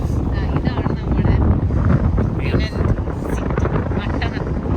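Strong wind gusts at a viewpoint in Dinant, Belgium, buffeting loudly and close in a continuous low roar that swells and dips.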